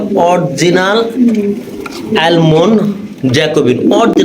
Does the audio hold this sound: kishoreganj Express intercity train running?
no